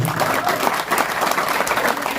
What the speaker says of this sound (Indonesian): Tepuk tangan dulu beliau